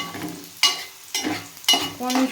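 Dried shrimp stirred and frying in a pan, with scraping stir strokes roughly every half second over a soft sizzle, close and moderately loud, no voices.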